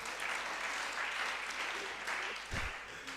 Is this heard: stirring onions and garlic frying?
no